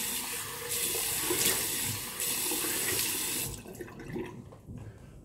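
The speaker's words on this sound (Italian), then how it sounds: "Acqua fredda." Cold tap water runs into a sink as a face is rinsed after shaving. A steady close rush of water with splashing stops partway through, leaving quieter dripping and handling sounds.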